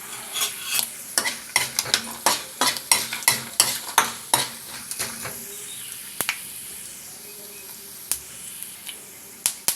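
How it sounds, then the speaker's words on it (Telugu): Chana dal, urad dal, mustard seeds and cumin seeds frying in hot oil, with a rapid run of sharp pops and crackles that thin out toward the end over a soft sizzle. "దీనిలో శనగపప్పు మినప్పప్పు ఆవాలు జీలకర్ర వేసి వేయించుకుందాం"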